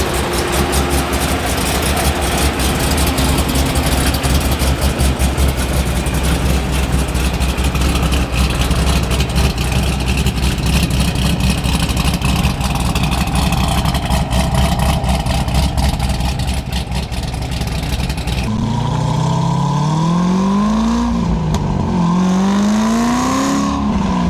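A 2004 C5 Corvette track car with a swapped LS7 V8 idles loud and close with a deep, steady rumble for most of the span, then revs up twice near the end.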